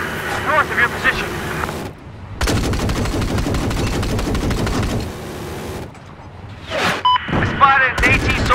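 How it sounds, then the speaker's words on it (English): Loud bursts of machine gun fire ring out in the Battlefield 4 video game, with sustained automatic gunfire, brief gaps, and game voice callouts mixed in. "There's an enemy machine gun north of your position."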